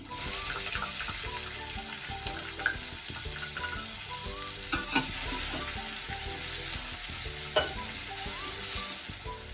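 Onion, curry leaves and dried red chillies fry in hot oil with a steady, dense sizzle, punctuated by occasional scrapes and clinks of a spatula stirring the pan throughout.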